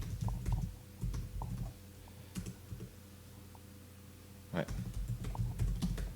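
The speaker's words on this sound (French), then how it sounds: "vous entendez le bruit du clavier parce que le micro est posé sur la même table" Close computer keyboard typing, picked up by a microphone on the same table, in short bursts of clicks and taps, pausing in the middle, then a sharp clack and more quick keystrokes.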